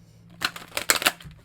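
Thick-cardstock tarot cards are shuffled by hand in a few quick, crisp riffling bursts after a quiet start, close and fairly loud with no talking.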